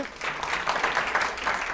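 A studio audience on a local Catalan TV letter quiz show claps steadily for a contestant, a soft, even patter of many hands without pauses.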